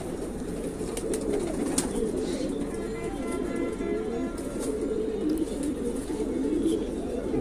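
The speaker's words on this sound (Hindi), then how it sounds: "कासनी कबूतर है ये, कासनी बबरा" Kasni babra pigeons coo in a loft, a continuous layered murmur of soft throaty cooing from several birds nearby, with a few brief chirps above.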